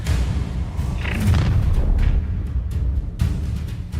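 Incendio fire spell cast in the Hogwarts Legacy video game, heard as a dense run of booming, thudding bursts and roaring whooshes layered over a rumbling low backdrop.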